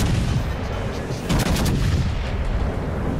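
Naval guns roar in the warship game World of Warships: Legends, a loud, dense barrage of booming shots that rumbles on without pause for a few seconds.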